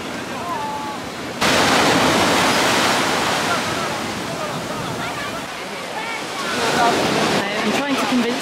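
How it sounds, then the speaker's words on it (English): Ocean waves roll and crash onto a beach near Positano, with a loud, continuous wash of surf that swells and breaks repeatedly, close to the listener. "the waves are very rolling here"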